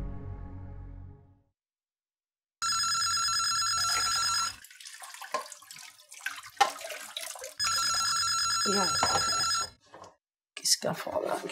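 A telephone bell rings loudly in two long bursts separated by a pause, with brief indoor noises and movement in between.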